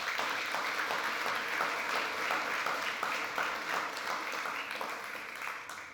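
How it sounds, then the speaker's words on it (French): An audience at a panel discussion applauds the panelists, producing a continuous even patter of many clapping hands that holds steady before tapering off in the final second. "On peut les applaudir également."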